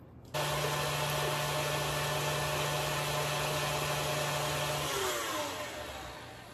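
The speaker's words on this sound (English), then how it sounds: "You start with your whisk attachment, or if you have a hand mixer, you want to mix these until they're just a little bit foamy" An electric hand mixer with a whisk attachment beats egg whites to a light foam for a trifle: a loud, steady, close motor whir that starts abruptly, holds level, then slowly fades near the end.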